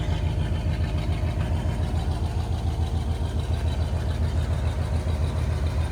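A black-and-red 1985 Chevrolet Silverado K10 4x4 pickup with a 5.7 litre 350 V8 and dual exhaust idles steadily, a low continuous rumble close by with no talk.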